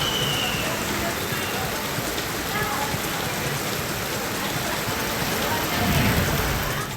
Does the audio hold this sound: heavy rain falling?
yes